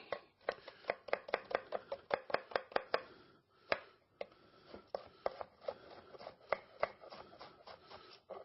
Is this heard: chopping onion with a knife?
yes